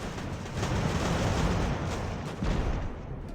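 Cannons fire in the Ultimate Admiral: Age of Sail naval-era battle game, a dense rolling barrage of booms and bursts, loud and close, with a fresh blast near the end and no speech.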